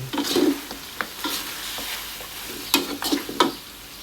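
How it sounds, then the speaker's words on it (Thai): Shrimp paste being stir-fried with pork ribs in southern curry paste in a pan: irregular scraping strokes of a spatula over a soft sizzle, close by, with a few sharper clacks and no voices. "ใส่กะปิลงไป ผัดให้เข้ากัน"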